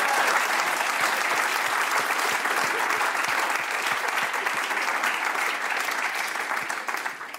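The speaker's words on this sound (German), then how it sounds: "Mal einen Applaus." A comedy club audience at a stand-up show bursts into steady, dense clapping that holds evenly for several seconds, close and lively, then tapers slightly at the end.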